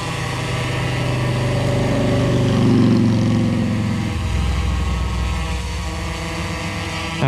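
A DJI Inspire 1 quadcopter drone lifts off, its motors and propellers producing a steady, loud droning hum with layered tonal whine that swells briefly and then settles into a constant buzz, with no talking.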